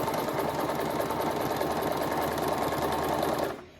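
A sewing machine runs steadily at quick speed as it stitches fabric pieces together, giving a close, even mechanical whir and clatter that ends abruptly.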